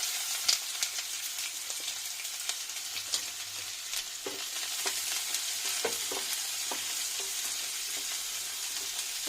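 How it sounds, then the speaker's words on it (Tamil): Two large finely chopped onions sizzle and fry steadily in hot oil with cumin in a pan for an egg curry, with faint stirring clinks and pops throughout, no talking. "இப்போ நம்ம வந்து பொடியாக கட் பண்ணி வச்ச 2 பெரிய வெங்காயத்தை போட்டுடலாம்."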